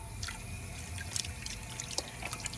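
Water from a 1959 American Standard one-piece toilet flushing, a steady close rush with scattered splashes and trickling drips throughout.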